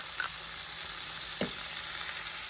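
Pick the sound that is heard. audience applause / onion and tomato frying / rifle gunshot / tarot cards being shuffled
onion and tomato frying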